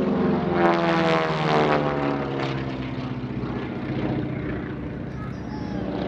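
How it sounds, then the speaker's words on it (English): A propeller airplane engine drones loudly and steadily overhead at an airshow, its buzzing prop tone holding throughout. "There's the engine sound. And as he comes down, you'll hear the prop."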